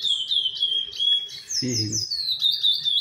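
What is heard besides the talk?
curió (chestnut-bellied seed finch) singing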